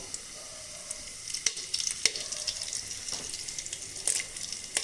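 Whole cumin seeds and bay leaves frying in hot oil give a steady close sizzle with scattered sharp crackles and pops, fairly quiet and without any talking.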